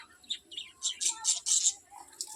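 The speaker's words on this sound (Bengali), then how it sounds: "বিস্কুট দিলাম পাখিগুলোকে" Pet birds indoors chirp in quick, bright bursts close by, several short calls overlapping at an uneven pace over a quiet room, with no talking.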